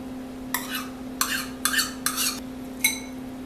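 A spoon stirs yogurt and cucumber sauce in a bowl, five distinct scraping strokes with pauses between them, close and clear over a steady low hum.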